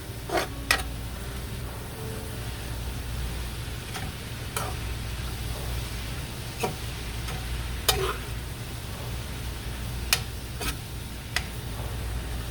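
Egg roll filling stirred in a sizzling pan, with a steady fry hiss under occasional sharp scrapes and taps of the utensil against the pan, close up and with no talking.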